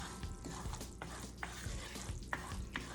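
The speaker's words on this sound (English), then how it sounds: "stand here and stir and stir and stir so that it does not stick to the bottom and burn" Roux for seafood gumbo, cooked to a dark peanut-butter colour, is stirred steadily in a pot, with a soft continuous scrape and light sizzle and a few sharper spoon knocks against the pot.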